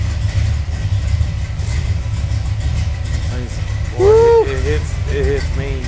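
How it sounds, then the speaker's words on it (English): 1964 Corvette Sting Ray V8 with 3-inch MagnaFlow exhaust and turn-down pipes idling with a low rumble, a couple of short throttle blips near the end, voices faintly over it. "it's got turn down pipes, 3-inch exhaust all the way down, MagnaFlow"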